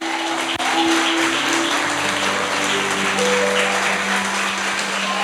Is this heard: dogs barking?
no